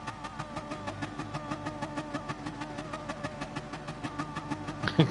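A racing video game car engine buzzes and revs in a fast pulsing rhythm at the start of a GT league race at Kyoto, heard onboard and fairly loud throughout.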